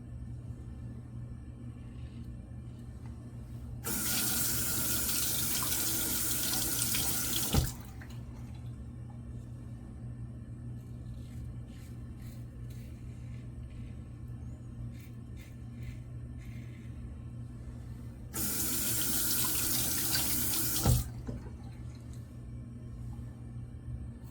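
Tap water runs in two bursts, about four and three seconds long, during hand washing with a lather of soap, with quieter rubbing and handling between them over a steady low hum.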